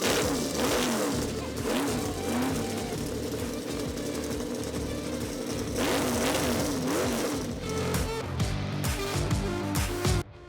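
A Ford race car built as an American NASCAR look-alike, raced on track for over 25 years, fires up and revs loudly at a car show, with a dense, continuous roar and rising, falling revs filling the whole stretch.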